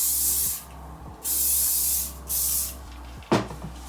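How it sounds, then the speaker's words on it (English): Hairspray hisses onto a wig unit in two steady bursts of about a second each, close and fairly loud, followed by a soft knock. "I'm gonna spray a little hairspray on this unit"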